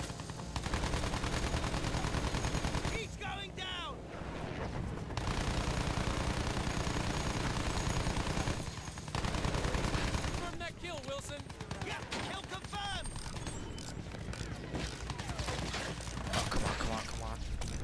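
Sustained automatic fire in Battlefield 1 aimed at an aircraft, a dense constant rattle of guns with engine drone and crackling bursts running nearly the whole way through, briefly dropping out twice.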